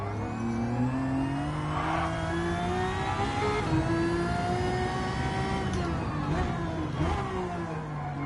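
A GR1 race car engine in Gran Turismo 7 at Daytona screams at high revs, holding a loud steady whine near the limiter with brief stutters and gear-change dips, continuous throughout.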